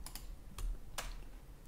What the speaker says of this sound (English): hit P on the keyboard for pipe